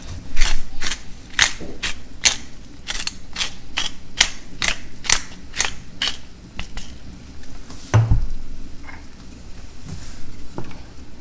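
A spoon stirs a Korean tteokguk soup base of soy sauce for soup and pepper in a pot, making a steady run of about a dozen close, even scraping strokes that slow and thin out toward the end.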